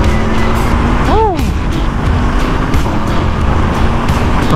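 Aprilia RSV4 1100 Factory superbike riding on wet roads, its engine a steady loud drone with rushing road and wind noise throughout and a brief rising-and-falling tone near the middle, with no talking.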